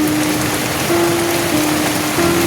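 Rain falls steadily on a surface during a storm, a dense, continuous close patter with a faint tonal hum running beneath it.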